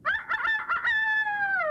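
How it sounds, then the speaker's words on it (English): A rooster in a barnyard tale crows loudly and close, one long drawn-out cock-a-doodle-doo whose final note holds and slowly falls, heard alone. "All the while, the rooster cried"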